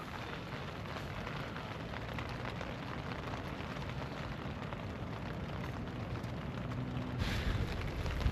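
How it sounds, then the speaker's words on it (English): Steady heavy rain drums on a camping tarp during strong winds and a storm, a constant dense patter with a low wind rumble, with no talk. "Sound of the rain hitting the tarp."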